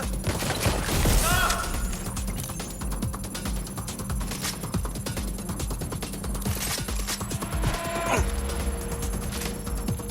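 Gunfire in the Watch Dogs Legion video game: dense, continuous bursts of shots crackle through a busy mix of game effects and sound, loud and steady throughout with sharper spikes near the start and end.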